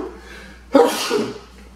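A single loud sneeze bursts out close by, with a short breathy trail after it, then quiet.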